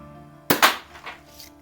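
A Daisy 188 or Healthways Plainsman air pistol fires with a sharp, close crack, followed almost at once by a second snap, then a brief fading ring, all over a quiet background.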